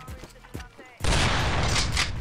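Loud sniper rifle shot in a Portuguese-language video game, a single sharp blast that sustains into a dense, noisy roar after a second of quieter game ambience, with no speech during the shot.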